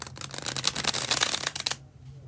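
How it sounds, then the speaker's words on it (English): A deck of playing cards is bridge-shuffled up close, a quick rapid riffle of flicking cards lasting under two seconds before stopping. "when I do the bridge shuffle"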